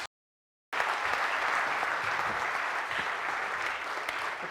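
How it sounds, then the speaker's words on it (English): Audience applause for the panelists at the Green and Blue Festival in London, a steady, dense wash of clapping that starts after a brief silence and holds at an even level throughout. "please give our panelists a round of applause"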